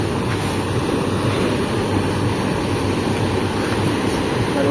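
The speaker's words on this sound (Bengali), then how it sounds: "এখানে নৌকা চালাও।" Water swishes and churns steadily as a boat is rowed, a continuous rushing wash with wind noise and no clear voices.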